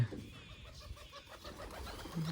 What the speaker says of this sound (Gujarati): હવે હંધે કબૂતર છે આવવા માંડ્યા છે